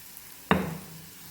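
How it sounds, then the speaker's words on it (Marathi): Samosa filling of peas sizzles as it roasts in a pan, a sudden burst of frying and stirring that starts partway through and then settles into a quieter, steady hiss, close and alone. "आता हे चांगले भाजून घ्यायचे"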